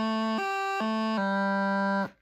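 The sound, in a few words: practice chanter unclean note, uneven fingers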